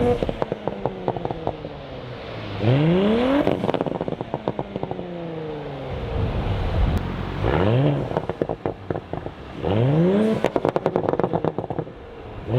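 An Audi B9 with the EA839 V6 sends out bursts of exhaust crackles and pops in repeated clusters, each cluster riding on a swooping rev as the engine blips up and settles, loud and close with no talk.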